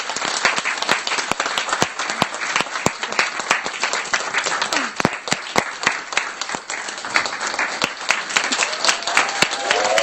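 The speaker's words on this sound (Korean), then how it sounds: "박수로 맞이해 주십시오." Steady applause from a lecture audience in New York welcoming a guest speaker, dense clapping running throughout at moderate distance with occasional sharper claps, a few voices murmuring beneath.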